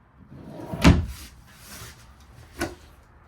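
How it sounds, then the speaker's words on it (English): A single wooden drawer knock near one second, followed by a softer second thud a moment later, close by with quiet room tone between, inside a Forest River Wildwood Heritage Glen travel trailer. "Good deep drawers for all of your clothing."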